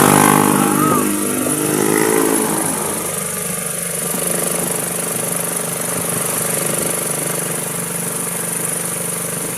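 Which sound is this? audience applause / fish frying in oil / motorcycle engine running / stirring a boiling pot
motorcycle engine running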